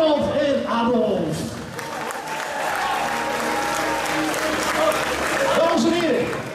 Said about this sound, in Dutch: wil ik eerst een daverend applaus voor Donald en Adolf